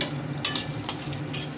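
Two dried red chillies tempering in hot oil while cooking a home-style dish, giving a continuous close sizzle with faint crackles and light utensil sounds, with no voices.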